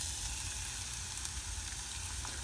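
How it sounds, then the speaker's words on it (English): Garlic and finely diced onions fry in a pan for a curry base, giving a steady, close hiss of sizzling with no talking. "as soon as the garlic starts to change colour and you can smell the aroma from the garlic, add in onions."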